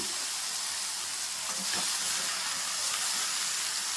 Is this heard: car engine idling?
no